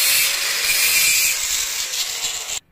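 A power tool cuts through a threaded steel hanger rod, giving a continuous loud, bright grinding-saw sound close by that runs for over two seconds and stops abruptly.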